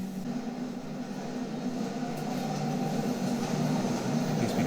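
A train rumbles by in a TV show scene, a loud, steady, continuous roar of rail noise with no voices over it.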